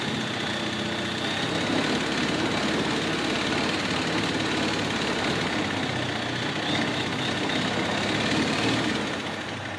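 A Honda UT3 outboard engine runs steadily at about 2,000 rpm, a loud, continuous mechanical drone with a dense, even texture that holds throughout without pauses or talk.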